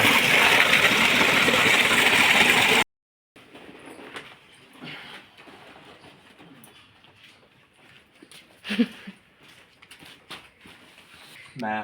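Water gushes loudly from a farm motor pump into a pond, a dense steady rush for about three seconds that then cuts to quieter outdoor sounds with a voice talking.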